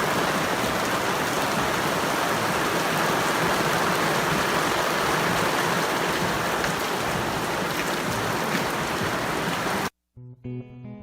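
Steady, loud rain pours outdoors onto a lakeside patio, a dense continuous hiss for nearly ten seconds before it cuts off abruptly into a brief quieter tail with some tonal sound.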